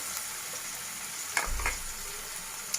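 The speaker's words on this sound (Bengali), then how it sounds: "তো আমি পেঁয়াজটা একটু ভাজা ভাজা হতে দেব।" Onions frying in a pan for a home-style country chicken curry, a soft steady sizzle with a couple of brief stirring scrapes in the middle, close and alone.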